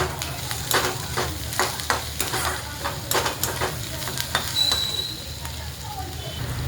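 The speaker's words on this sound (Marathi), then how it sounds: "जरा मीठाने जरा पटकन भाजतो कांदा." Onion sizzles steadily in a hot pan with salt, crackling and popping under intermittent stirring scrapes, a close continuous fry with a faint voice in the background.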